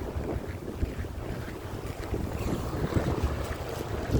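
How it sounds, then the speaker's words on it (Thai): Strong wind blows hard and steadily, buffeting the microphone with a low rumbling roar and uneven gusts that swell throughout, with no voices. "ลมแรงจังเลย"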